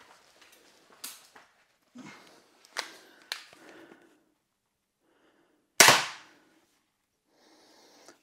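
An X-BOW FMA Supersonic Tactical crossbow is test-fired in a quiet setting, giving several sharp, close snaps with short pauses between them and one much louder crack near the end.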